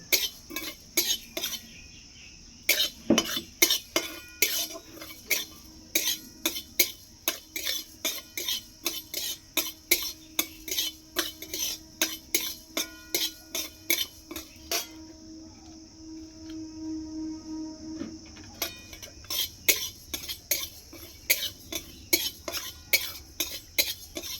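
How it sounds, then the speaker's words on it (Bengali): Whole coriander, fennel and cumin seeds are dry-roasted in a pan, producing rapid, rhythmic clicking and scraping of a utensil against metal, close and fairly quiet. "এটা আমি শুকনো কড়াই ভেজে নেব"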